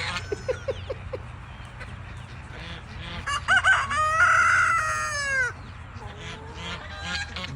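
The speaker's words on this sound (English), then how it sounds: "So I went outside, and this is what the birds were doing." Several backyard chickens cluck and squawk close by, rising into a loud burst of overlapping cackling and a crow before settling back to softer clucks.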